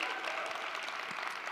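Audience applause at the Microsoft 365 Conference 2023 opening keynote, a steady dense wash of clapping from a large crowd throughout the brief moment.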